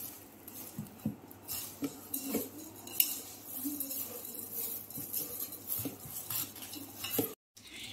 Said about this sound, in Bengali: এগুলো হাত দিয়ে মাখলেই বেশি ভালো হয়।